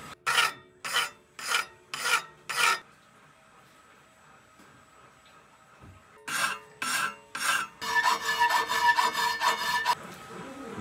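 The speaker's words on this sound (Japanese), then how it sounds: "でここにもヤスリをかけて細かい修正していきます。" A katana blade is worked by hand with a file, five rhythmic rasping strokes, then a quiet pause, then a longer run of faster, denser strokes, close and loud with no talk.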